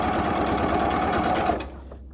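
Sewing machine stitching a quilt, a loud steady close whirring run that stops abruptly near the end, no talking.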